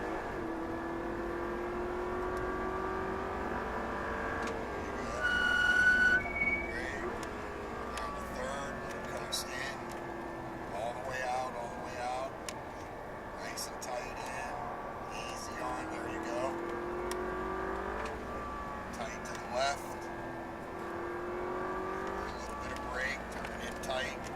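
An Audi R8 V8 accelerates hard on a Las Vegas track, its engine note rising and falling through corners at moderate volume beneath frequent coaching speech.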